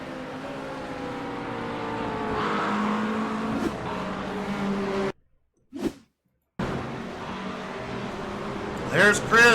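A Mustang GT3 race car drives at Brands Hatch in a racing video game, its engine droning and shifting pitch with a sudden dropout midway, then a rising rev and squeal near the end.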